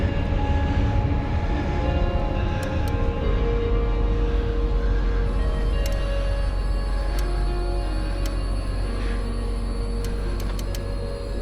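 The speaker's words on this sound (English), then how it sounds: "one of the high capacity metro trains" High capacity metro train passing by a riverside path, a continuous loud rumble and rolling drone with occasional high squeals and clicks from the wheels on the rails.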